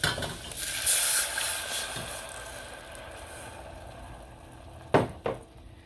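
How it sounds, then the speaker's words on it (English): Pineapple juice hits a hot pan of browned ham, giving a bright hiss of sizzling that swells and fades, followed by a couple of sharp clanks of metal against the pan. "we're going to add that 2/3 cup of reserved pineapple juice"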